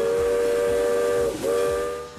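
A century-old steam locomotive at Roaring Camp Railroads sounds a loud, sustained steam whistle with a chordlike tone that dips briefly, over rhythmic rail clatter, close by.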